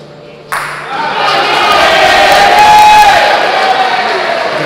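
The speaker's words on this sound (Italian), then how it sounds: "Grandi applausi per una bellissima bocciata di Daniele Grosso." A crowd at a traditional bocce semifinal match bursts into cheering and applause after a fine bocciata shot, starting abruptly and swelling into loud sustained noise with shouts.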